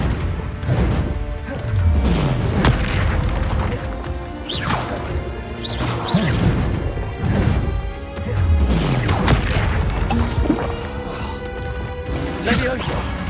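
Spells cast in the Hogwarts Legacy video game, a busy mix of crashes, whooshes, whacks and booms recurring every second or two, with a voice speaking over the effects.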